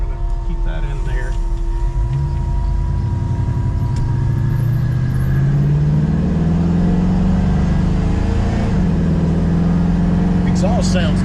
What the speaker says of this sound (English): It has Flowmasters on it, dual exhaust